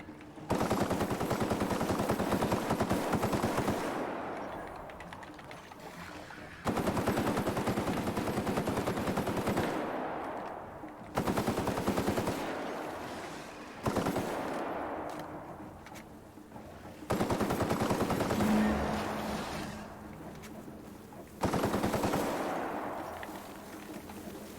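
Gunfire in the video game The Outer Worlds comes in several long bursts of rapid automatic shots, loud and close, each burst trailing into a decaying reverberant tail before the next one starts.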